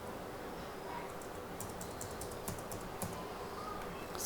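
Quiet, close computer-keyboard typing while a bank branch name is entered in Tally accounting software: light clicks in short irregular runs over a steady background hiss.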